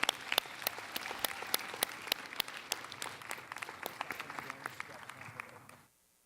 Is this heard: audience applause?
yes